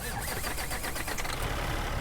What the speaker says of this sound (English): I'm going to go ahead and turn on the engine so we can hear it from the outside.